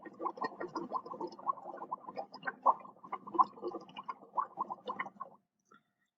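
Breath blown through a tube into a glass of water tinted with bromothymol blue makes a steady run of gurgling bubbles for about five seconds, then stops.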